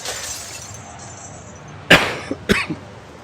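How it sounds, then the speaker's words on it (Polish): A glass window is smashed in Hitman 2, giving a sudden loud crash with sharp shattering, then a second smash and tinkling fragments over a steady game background hum. "Strażnicy zostali zalarmowani przez dźwięk tłuczonego szkła"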